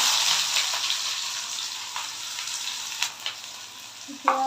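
Onions frying in a pan as the base for chickpeas give a steady, bright, hissing sizzle throughout, with a few light taps of a utensil toward the end.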